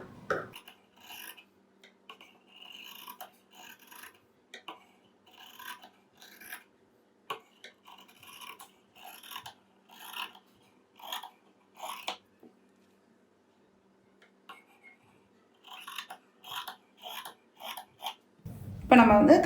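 Scissors snip and rasp through fabric while a churidar side pocket is cut out, a series of short, close, crisp cuts in irregular bursts, with a brief pause partway through.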